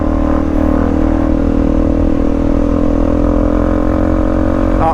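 A Honda CRF 250 Rally motorcycle being ridden along a narrow farm tractor lane, its engine droning steadily and loudly at close range for the whole stretch, with wind rumble and no voices.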